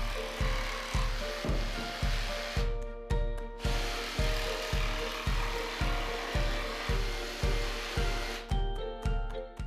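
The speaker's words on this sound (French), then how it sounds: "vous pouvez ici utiliser la scie sauteuse" Jigsaw cutting through a board during bathroom construction, a steady buzzing motor with a rapid rhythmic blade stroke, close and continuous with brief slowdowns.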